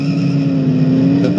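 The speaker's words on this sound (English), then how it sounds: "These mechanics have done a fine job in keying these engines up for a good competitive race this morning." Race car engines idling and running steadily at the start of a competitive road race, a loud continuous mechanical drone with a prominent low hum and no clear revving peaks.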